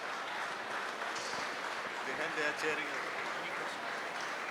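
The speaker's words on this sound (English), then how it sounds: "people from behind are cheering us" An audience at a commercial kitchen energy efficiency panel session at an expo in Bengaluru claps in a soft, steady wash of applause with some cheering, heard at a distance with talk over it.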